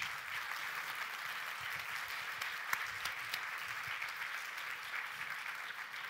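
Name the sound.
applause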